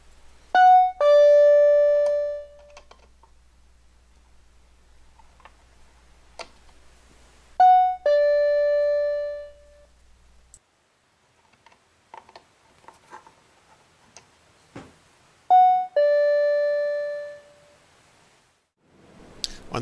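A TXRX2000A wireless driveway alarm receiver plays its chime three times with the volume turned down. Each two-note ding-dong is clear and tonal, with quiet clicks from the volume knob and handling noise between the chimes.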